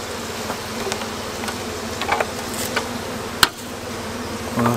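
A honeybee colony nested inside a tree trunk hums steadily and close, a dense continuous buzz with a few brief knocks and one sharp tap partway through, no voices.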